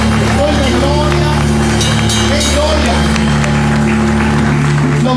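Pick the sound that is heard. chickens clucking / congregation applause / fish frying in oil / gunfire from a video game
congregation applause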